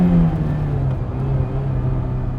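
A Ferrari 328 GTB engine revs with a deep, steady tone, rising and holding close by, with no talking.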